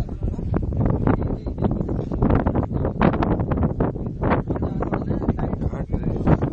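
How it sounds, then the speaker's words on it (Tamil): Wind blows hard on a mountainside, a loud, gusty, rumbling rush across the microphone that runs throughout. "காற்று"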